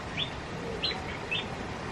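German green magpies at Chester Zoo give three short, high chirping calls spaced evenly over a steady, faint background hum.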